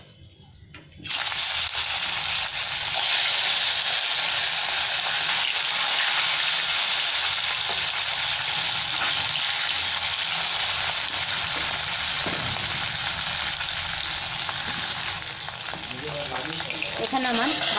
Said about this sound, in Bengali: এই বড়ি ভাজার তেলের মধ্যেই মাছটা ভেজে নেব